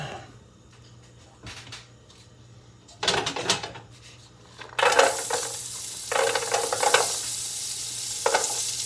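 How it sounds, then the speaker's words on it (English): Carrots and celery sizzle in a hot frying pan, the crackling rising in bursts as the vegetables are stirred, with occasional utensil clatter over a low background hum. "Definitely sizzling."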